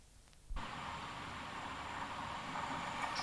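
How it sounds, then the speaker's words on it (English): A Manchester Express train rushes past the waiting Liverpool train at Huddersfield station, its broad roar starting abruptly and holding loud and steady throughout. "A Manchester Express passes the waiting Liverpool train"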